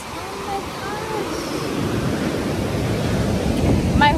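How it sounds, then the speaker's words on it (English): Ocean waves roll onto Nawi Beach in El Salvador as a loud, steady broadband roar, with wind buffeting the microphone and a brief high chirp near the end. "Oh my gosh, look at the waves,"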